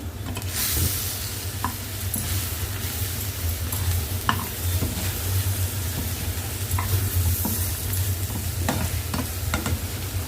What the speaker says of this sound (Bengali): এখন চিংড়ি মাছ দো পেঁয়াজও করছি